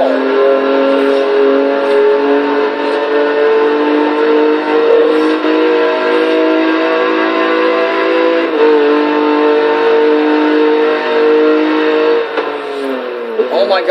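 A 2009 Lotus 2-Eleven engine howls at sustained high revs near 173 mph in Forza Horizon 3. The steady, loud, harmonic drone shifts pitch briefly around two gear changes.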